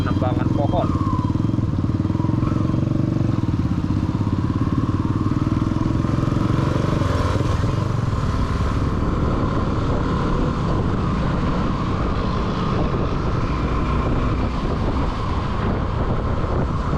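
Suzuki V-Strom 250 SX motorcycle riding on a busy road, its steady engine drone mixed with heavy wind buffeting, with a rider talking over it throughout.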